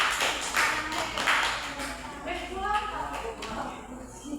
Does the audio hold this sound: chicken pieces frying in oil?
no